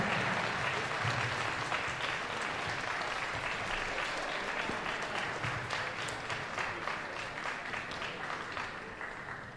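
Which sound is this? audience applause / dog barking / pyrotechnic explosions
audience applause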